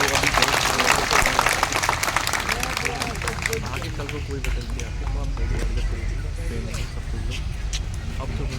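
Crowd clapping and cheering rises at the start and fades into a murmur of voices, with someone speaking over the noisy outdoor gathering.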